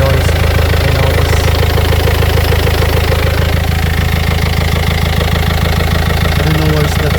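A noisy 1.5 dCi diesel in a high-mileage Renault Megane Mk2 idles up close, a loud, rapid, even clatter with a faint knock, while a voice talks over it at times.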